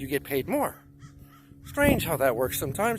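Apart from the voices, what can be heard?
birds singing at Tijuana Estuary, crow cawing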